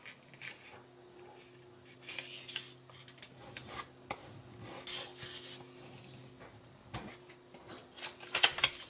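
Paper creased and scraped with a bone folder, soft irregular rubbing and rasping strokes close by, quiet against a low steady hum, with a few sharper taps near the end.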